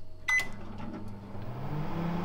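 A door clunk, then a low steady hum of a 1000-watt microwave oven running on high, heating a frozen butter chicken bowl, quiet and continuous.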